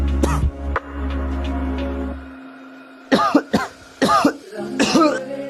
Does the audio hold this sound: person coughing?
yes